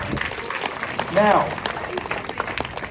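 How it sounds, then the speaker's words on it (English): Audience applause in a hotel show setting, a dense crowd clapping under a voice speaking over it. "Give him a round of applause, ladies and gentlemen."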